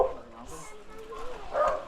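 A dog at a house gate gives a few short yips and barks mixed with whimpering, fairly faint and partly under people talking nearby.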